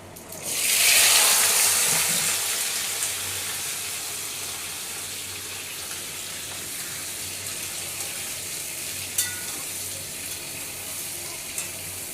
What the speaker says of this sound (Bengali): ধুয়ে রাখা আলুটা দিয়ে দিচ্ছি